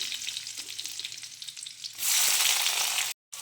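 Sliced onions for tomato rice drop into hot oil, and a quiet crackle swells into a loud, steady, close sizzle that ends in a brief cut of silence.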